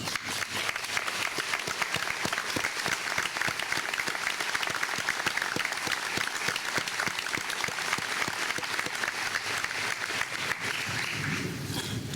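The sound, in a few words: graduation audience applause honoring student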